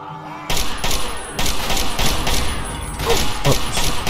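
Gunfire from a weapon in the video game Fallout 3, a few loud bursts of shots in quick succession, with someone talking briefly over them.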